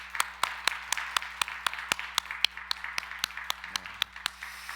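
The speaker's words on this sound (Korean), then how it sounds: "우리 힘차게 격려의 박수 한번 하겠습니다." A church congregation at a Christmas service claps in encouragement, giving a regular run of sharp, distinct claps at an even pace over a low steady hum from the hall.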